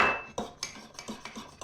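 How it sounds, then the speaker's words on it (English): Steak pie filling stirred in a pot, a spoon scraping and clinking against the metal in a steady run of about eight strokes, close and fairly quiet with no talk. "And just give that a nice stir."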